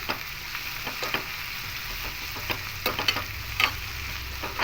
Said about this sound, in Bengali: দিয়ে হালকা একটু চিচিঙ্গাগুলোকে ভেজে নেব